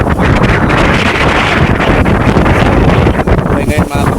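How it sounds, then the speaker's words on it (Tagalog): Strong wind buffets a fishing boat out at sea on the Pacific amid large waves, a loud, roaring broadband rush that blankets everything, with speech partly buried beneath it. "Malakas ang hangin, saka medyo malalaki na yung alon"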